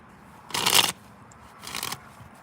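A deck of playing cards is shuffled in two short, crisp riffling bursts with a pause between, close and fairly loud against a quiet background.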